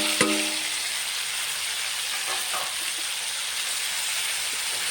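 Cauliflower pieces hit hot oil and settle into a steady, fairly soft sizzle, with a brief clatter at the start and no talk.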